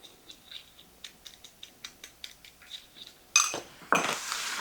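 Utensil stirring Italian seasoning, salt and pepper in a bowl, a run of quiet light clinks and scrapes, followed by two louder, harsher scraping bursts near the end.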